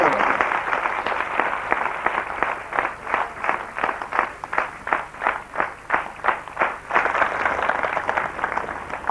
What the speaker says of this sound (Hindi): ये तालियां दक्षिणा जी के लिए, सिंगला जी के लिए, यहाँ के सब लड़कों के लिए